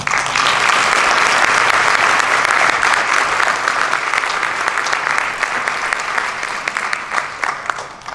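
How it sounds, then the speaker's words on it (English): An audience at a school board of education meeting breaks into sustained applause, a dense, loud wash of clapping that holds steady for several seconds before slowly tapering off. "One more round of applause."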